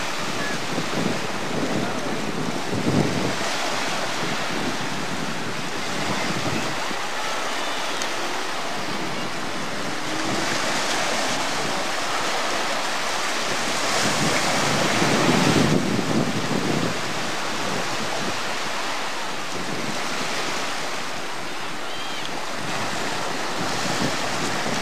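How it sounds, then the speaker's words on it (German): Atlantic Ocean surf rolls in under strong wind, a continuous loud roar of breaking waves with microphone wind buffeting throughout. "Das ist kein Meer. Das ist Ozean, Atlantischer Ozean."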